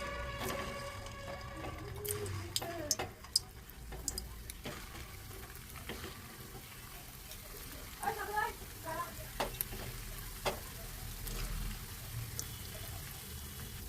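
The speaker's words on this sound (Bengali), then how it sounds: "তাই এরকম করে হালকা কড়াইটা নেড়ে দিব, যাতে পুরোটা ভালো করে হয়।" Food frying in hot oil in a kadai while being stirred, a continuous close sizzle broken by scattered clinks and scrapes of the utensil against the pan.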